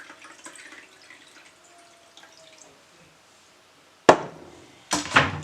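Detox water is poured in two short, close splashing bursts after several seconds of near silence, the second pour slightly longer than the first.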